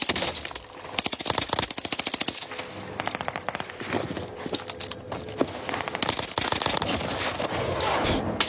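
A PPSh submachine gun fires in a video game in dense rapid bursts of crackling shots that repeat across the stretch, loud and busy, with some faint background noise.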